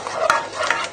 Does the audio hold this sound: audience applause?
no